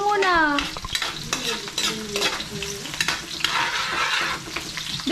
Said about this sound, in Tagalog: Nagigisa na doon si ate. Ayan. Uy, ang bango ate. Yung bawang sibuyas pa lang ang bango na.